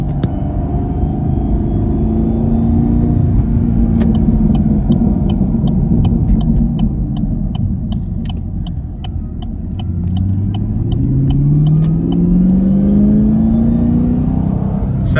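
Brand-new Chevrolet Camaro SS pulling in first gear with a faulty transmission, a steady loud low engine drone rising in pitch twice, with a faint repeating mechanical ticking over it and no talk.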